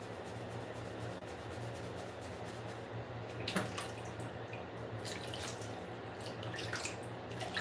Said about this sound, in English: I'm washing makeup brushes.